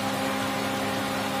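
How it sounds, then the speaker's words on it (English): A 2015 Honda Accord EX-L coupe with a 3.5 liter V6 idles under an open hood, a steady, even engine drone with a faint whine, close and continuous with no talking. "I've got it idling right now to cool it down inside"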